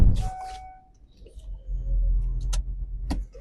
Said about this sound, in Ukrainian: Так, запускаємо двигун.